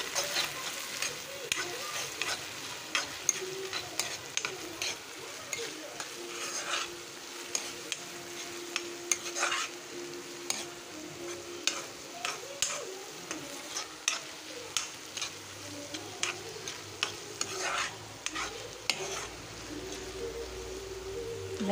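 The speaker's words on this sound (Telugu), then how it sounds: "పసుపు వేస్తున్నానండి. దీన్ని ఇలా బాగా వేయించుకుందాము." Brinjal with turmeric fries in a pan with a continuous sizzle, broken by frequent sharp taps and scrapes of a stirring spoon against the metal, close and moderately loud with no talk.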